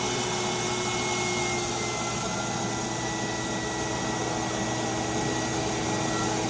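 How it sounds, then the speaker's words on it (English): A spa air blower runs continuously, giving off a loud, steady motorized whir with a constant hum and an airy rush and no pauses or speech. "aux 2 is your blower, the air blower."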